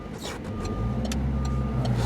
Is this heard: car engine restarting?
yes